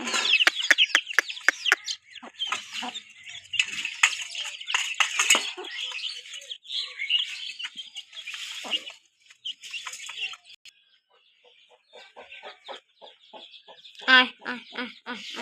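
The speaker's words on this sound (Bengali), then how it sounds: "আরো মুরগি আছে, এগুলো ঘরে থাকে" Hens cluck as they come out of their coop in a rural Bangladeshi home. Rapid clucking fills the opening seconds, the calls thin out into scattered clucks, and a loud squawk rises near the end.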